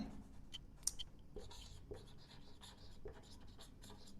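A marker or chalk scratches across a classroom board in short repeated strokes, close and steady, under low room noise.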